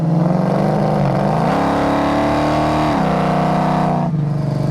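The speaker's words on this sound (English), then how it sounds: "Has a hell of an exhaust note to it." A 1973 Dodge Challenger with a 383 V8 is driven, its loud exhaust rising through revs and gear changes over several seconds and then dropping off near the end, close and strong with no talk.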